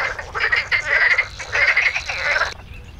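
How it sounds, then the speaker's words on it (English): Savi's warbler singing from reeds and a young willow in a wetland: a rapid, buzzing, frog-like reeling call, loud and close, running in sustained bursts for over two seconds before stopping abruptly. "a strange sound rises, less like a bird, more like a frog in song."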